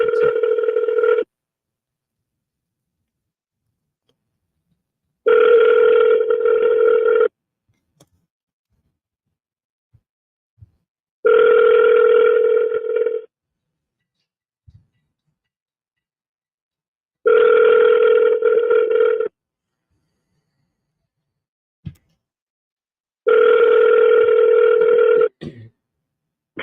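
A telephone ringback tone repeats on an outgoing call while waiting for an answer: five loud, evenly spaced rings of about two seconds each, separated by silences of roughly four seconds, with no voices.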